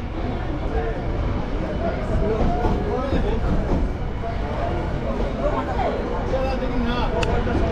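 A Sealdah to Azimganj passenger train rolls along with a continuous rumble and rattle of carriages, while someone talks over the noise from inside.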